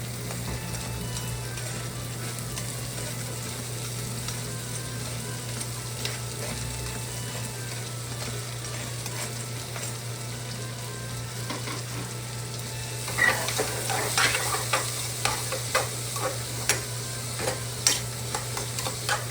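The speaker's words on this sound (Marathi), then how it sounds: "आता आपण सगळ्या ज्या भाज्या कट केलेल्या आहेत ना त्या टाकतोय." Chopped vegetables fry in masala for masala pasta, a steady close sizzle with a low hum underneath, then livelier stirring scrapes and clatters toward the end.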